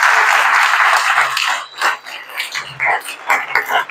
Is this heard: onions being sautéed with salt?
no